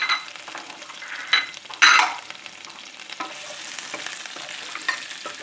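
Sliced onions tossed into a hot pan for beef chilli onion, a loud sizzling burst at the drop, then steady frying crackle with scraping stir strokes, no voices.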